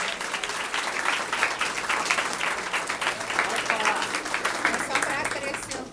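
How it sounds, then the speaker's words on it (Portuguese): A church congregation at a baptism service applauds continuously, a thick wash of clapping hands that holds steady for several seconds at moderate volume. "Vocês podem dar salve de palmas para Jesus."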